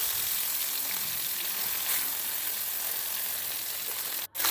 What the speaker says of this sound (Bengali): উলট পালট করে ভালো করে ভেজে নেবো মাছগুলো